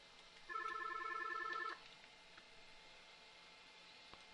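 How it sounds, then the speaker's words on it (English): An office phone extension ringing after a blind transfer on a business phone system, one short electronic ring burst of about a second, clean and moderately loud over faint room hiss, then quiet. "you're not connected to the call any longer, yet extension 105 is ringing"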